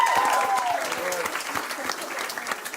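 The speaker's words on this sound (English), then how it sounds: "Give them a round of applause." Audience applause at a music livestream event, a thick, sustained wash of clapping from a crowd with a little cheering, while voices speak faintly underneath.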